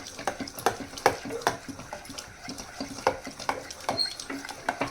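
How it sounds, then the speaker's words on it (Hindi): Sarson saag being stirred with maize flour in a pot, giving repeated close scraping and wet squelching strokes in an uneven rhythm, with no talking. "ये हम मक्के के आटे को डाल देंगे साग में और अच्छी तरह हम साग में इसे मिक्स करेंगे चला चला कर।"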